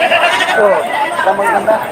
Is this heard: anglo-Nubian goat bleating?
yes